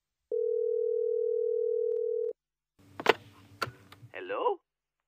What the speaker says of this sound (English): which may explain how Radio Roy obtained the following leaked phone call